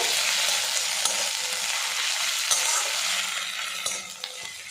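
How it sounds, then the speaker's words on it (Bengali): Ginger-garlic paste fries with onion in hot oil, making a loud, continuous close sizzle that eases slightly toward the end, with occasional faint stirring scrapes. "আরও কিছুক্ষণ নাড়াচাড়া করে ভাজা ভাজা করে দেব।"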